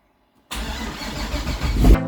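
Twin-turbo C6 Z06 Corvette engine firing for the first time: silence, then a sudden loud catch into a rough, rumbling idle that builds slightly toward a brief rev at the end.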